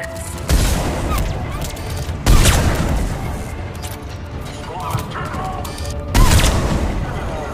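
Gunfire from a sniper-style gun in Mass Effect 3 Legendary Edition, with several loud booming shots spaced a few seconds apart among scattered battle noise and voices.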